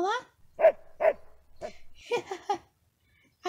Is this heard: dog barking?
yes